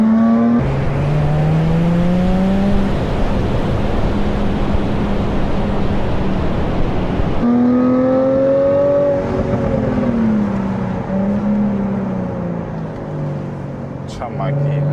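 A Jaguar F-Type S engine drones steadily from inside the moving car, rising and falling in pitch as it accelerates and shifts gears, loud and close throughout, with occasional talk over it.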